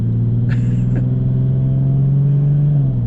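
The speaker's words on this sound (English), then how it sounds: "my car's pretty loud" A deep, loud engine drone from a Nissan 370Z with a loud exhaust setup holds steady at close range, with a brief higher whine near the start, then the pitch drops slightly at the end.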